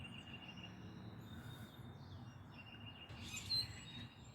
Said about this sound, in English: Just out here in the garden this morning, looking around, listening to the birds.